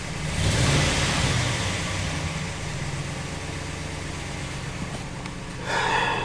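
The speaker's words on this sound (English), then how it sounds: "Give her a couple revs." The 5.7L V8 in a 2014 Dodge Ram 1500 with a cylinder 6 misfire is revved up close, a strong engine roar that settles toward idle before rising again at the end.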